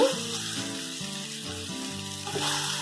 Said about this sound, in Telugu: ప్యాన్ వేడి చేసుకొని ఆయిల్ వేసి కట్ చేసుకున్న ఇడ్లీ ముక్కల్ని వేసుకొని ఇలా 5 ఇడ్లీ